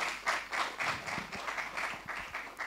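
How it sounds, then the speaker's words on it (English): Applause from a studio audience at a candid conversation event with Salman Khan and Sooraj Barjatya, a steady, fairly faint patter of clapping lasting a few seconds with no talk over it. "A big round of applause there for what we saw."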